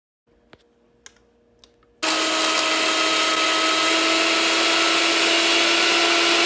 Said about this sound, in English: I put the almonds into the blender